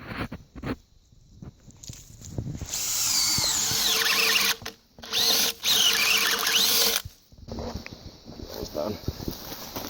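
Cordless power drill driving into wood sill logs during a small cabin foundation rebuild, several sustained whirring bursts with brief pauses, fairly close and loud, with people talking and footsteps before and after.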